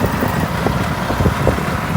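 Loud, steady rumble of a motorcycle riding along a rough, monsoon-damaged village road in Gujarat, India, engine drone mixed with road and wind noise.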